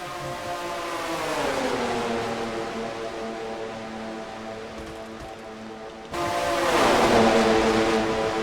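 Stock cars, including Buicks and an Oldsmobile, roaring around an oval track in a racing series, a loud continuous engine drone whose pitch sweeps down as the pack passes, then a fresh, louder wave of engines arriving.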